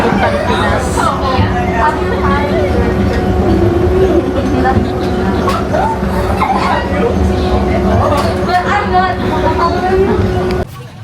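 Passenger train ride on the way to the Philippines, with a steady rolling rumble and rail noise throughout, overlaid by cabin chatter and nearby voices talking.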